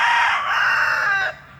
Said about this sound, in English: this old rooster, this one of a little hatch rooster.